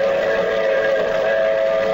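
A train runs steadily as a sound effect in an old radio drama, giving a loud, continuous rumble with a sustained whistle-like tone on top and no voices.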